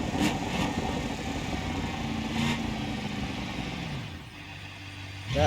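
Car engine in the BeamNG.drive driving game crossing different surfaces, a steady mid-pitched engine hum with gear shifts and a falling pitch sweep near the end before it rises again, no talking.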